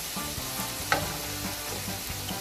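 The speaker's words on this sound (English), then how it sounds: "I'm gonna add the spices and give it a good mix" Vegetables sizzling steadily in a pan while spices are stirred in, with a continuous close fry and soft scraping of the spoon, one brief clack partway through.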